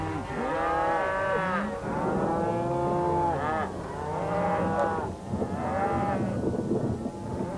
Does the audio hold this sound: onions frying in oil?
no